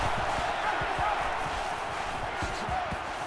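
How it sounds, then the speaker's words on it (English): A stadium crowd roars steadily in the NCAA 14 college football video game, Mississippi State at Florida, a dense wash of cheering with scattered thumps beneath a commentator's voice. "this crowd is going absolutely crazy"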